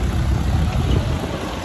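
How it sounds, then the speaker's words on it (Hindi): A 4x4 tractor's diesel engine runs steadily after being started at a tractor loading competition, a loud, continuous low rumble with broad noisy roar and no pauses. "उसका ड्राइवर ने स्टार्ट कर दिया ट्रैक्टर"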